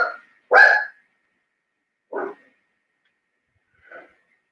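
A dog barks three times at spaced intervals indoors: a sharp, loud first bark followed by two shorter, quieter ones trailing off, with near-total silence between them.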